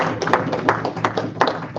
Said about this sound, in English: Give Jettison a round of applause.